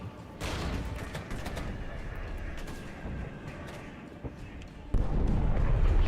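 In a NATO-versus-Soviet modern wargame video game, an artillery bombardment rolls on with repeated booms and crackling gunfire, a sharp heavy burst near the end, while a voice talks over it.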